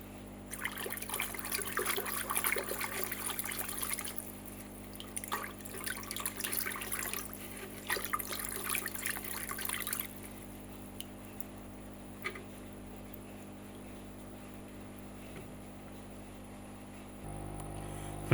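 Water being stirred in an artemia hatching container, with close sloshing and trickling for about ten seconds, then quieter dribbles over a steady background hum.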